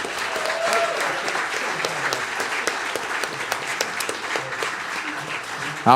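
A crowd at a live string band radio show claps for a band, sustained, dense applause filling the room for several seconds, fairly close, with faint voices underneath.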